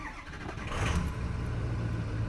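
A 2006 Ford F350 with the 6.0 diesel V8 fires up, a quick starter turn giving way to a rising, steady low diesel rumble close by, with no voices.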